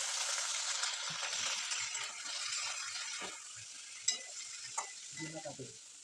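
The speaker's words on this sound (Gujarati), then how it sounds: "2-3 ચમચી માં આપણે પનીરને તરવાનું છે" Paneer shallow-fries in a few spoons of oil over a low flame: a soft, steady sizzle with occasional stirring scrapes and light clinks, easing off toward the end.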